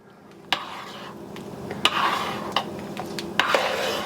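A spoon stirs a vegetable soup mixture in a pot, giving soft scraping swishes with a few sharp clinks against the side, quiet and close.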